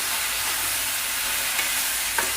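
Okra frying and being stirred in a pan for a hotel-style okra sambar, a steady close sizzle with occasional scraping stir strokes.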